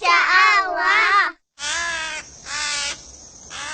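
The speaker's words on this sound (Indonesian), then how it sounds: "suara apa yang barusan kita dengar? Suara burung gagak." A crow caws loudly and close by, giving several harsh, drawn-out calls separated by short pauses.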